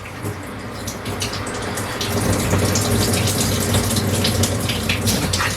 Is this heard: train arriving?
no